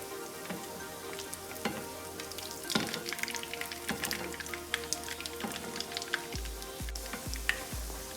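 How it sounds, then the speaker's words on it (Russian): Sausages wrapped in dough fry in hot oil until golden, giving a close, lively sizzle with bubbling crackle and frequent pops, plus a few soft knocks near the end. "Наливаю сверху, обжариваю до румяной корочки."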